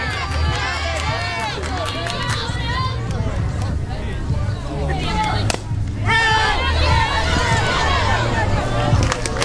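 Agitated crowd at an NCAA college softball regional game, loud shouting, whistling and cheering from many spectators, sustained and close, rising in intensity toward the end.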